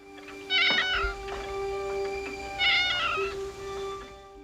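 A cat meows twice in a 1960 Twilight Zone episode, two loud, drawn-out cries spaced about two seconds apart over a steady background hum.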